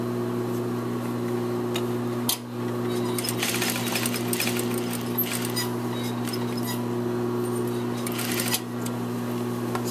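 A sewing machine stitches the hem lining of a suit jacket, running in a steady mechanical whir with brief pauses, close by, while a person talks over it.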